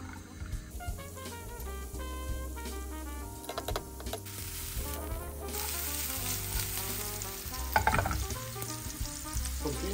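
Chopped onion fries in melted butter in a pot and is stirred, giving a steady close sizzle with scraping stir sounds and occasional clinks, alone with no talk.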